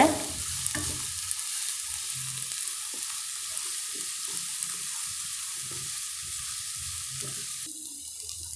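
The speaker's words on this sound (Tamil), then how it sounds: "கருவேப்பிலையும் சேர்த்துடலாங்க நல்லா வதக்கிக்கோங்க" Onions sauté in a pan with curry leaves and green chilies, giving a continuous hiss of frying broken by soft, repeated stirring taps.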